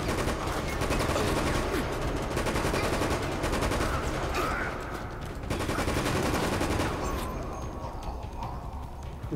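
Sustained automatic gunfire in the video game Resident Evil: Operation Raccoon City rattles out in dense, rapid bursts that barely pause, loud and continuous, with a brief lull midway before the shooting resumes.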